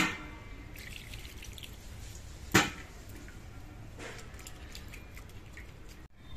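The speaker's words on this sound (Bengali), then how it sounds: "এবার এই গোটা ধনেপাতা গুলোকে আমি ধুয়ে নিচ্ছি।" Water pours and trickles steadily while whole coriander leaves are rinsed by hand, a continuous soft splashing with one sharp clink midway and a brief clatter near the end.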